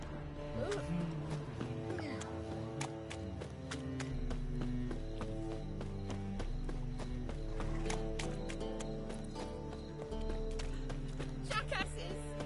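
Hooves clip-clop in a quick, steady galloping rhythm in The Witcher 3, with a horse whinnying and other game sounds layered over it throughout.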